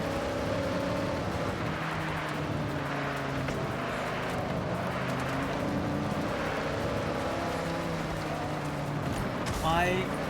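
Sports car engine in the Forza drift racing video game, a steady droning hum with shifting tones throughout, under continuous talk and a brief rising whine near the end.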